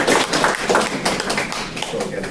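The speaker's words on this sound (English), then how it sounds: "And there's a round of applause for all the speakers for now." A round of applause for the speakers at the 2023 GADRI conference, dense and steady clapping from an audience filling the whole moment without pause.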